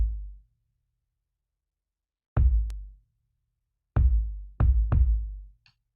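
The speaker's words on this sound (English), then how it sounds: "And then I have layered after party kick with the same." Layered boom bap, after party and bluebird kick drums from a remake of a song: deep, punchy kicks hit five times in a sparse pattern, each with a short low tail, alone and dry.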